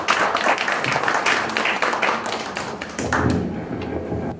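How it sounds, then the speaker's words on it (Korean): Audience applause at an environmental awards ceremony, a dense wash of many hands clapping that continues steadily, with scattered heavier taps and a slight lift near the end. "축하의 박수로"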